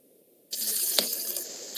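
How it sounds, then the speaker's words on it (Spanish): Water bursts from a small hose and flows in a steady, close hiss. A drip or splash cuts in partway through, and the flow is heard alone without voices. "está saliendo el agua de esta manguerita"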